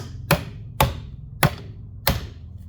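Four sharp hammer whacks strike a Bravura trumpet, spaced roughly half a second apart, each a loud close metallic thwack with a short ringing decay, with no voices between the blows.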